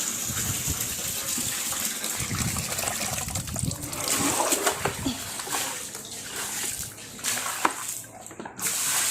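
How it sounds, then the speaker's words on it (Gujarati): Water gushes and splashes across a courtyard floor as it is washed, a close, steady rushing flow with irregular splatters and trickles throughout. "ફળિયું ધોવું છું અત્યારે"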